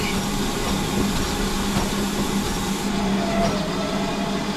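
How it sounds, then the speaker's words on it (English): Steam locomotive in a train simulator game applying its steam brake, a steady hissing rush over a low mechanical rumble and faint hum, continuous and close throughout. "Use the steam brake."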